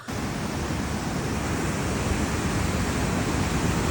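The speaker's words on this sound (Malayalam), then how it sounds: "ഇത് ജസ്റ്റ് ഒരു ബണ്ടിൽ കെട്ടിയിട്ട് ഈ ഒരു വെള്ളച്ചാട്ടം പോലെ നമുക്ക് ചെറിയൊരു കാഴ്ച അത്രേ ഉള്ളൂ" Water spills over a small check dam at Thripparappu in Kanyakumari like a waterfall, a loud, unbroken broadband roar heard close by with no voices.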